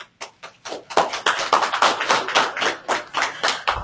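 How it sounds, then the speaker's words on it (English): Audience applause at a training session for licensed site remediation professionals, starting as scattered claps and building into steady, rhythmic clapping from a modest crowd, close and fairly loud. "I don't get applause that much"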